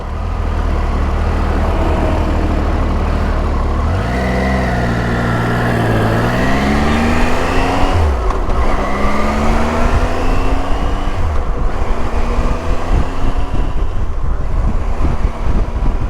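Triumph Tiger motorcycle cruising on a highway, a loud steady engine drone heavily buffeted by wind rushing past the microphone, with rising and falling engine pitch as it shifts and accelerates, no talking.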